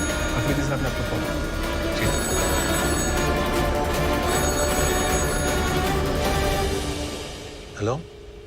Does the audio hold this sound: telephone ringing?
yes